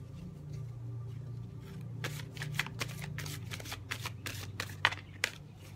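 Romance Angel oracle cards are shuffled by hand, a steady run of crisp, close riffling flicks over a low background hum, with no voice.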